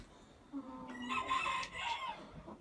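A rooster crows once nearby, a single drawn-out call standing alone against a quiet background.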